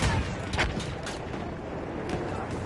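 Gunfire in the video game Battlefield 1, a dense rumbling battle din with a few sharper bursts and booms standing out, steady and loud throughout.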